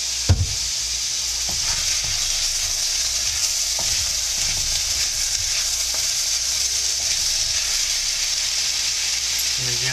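Poblano peppers and other vegetables sautéing in a pan for a tofu scramble, with a continuous bright sizzle, a clack at the start and soft intermittent stirring, close and steady, no talking.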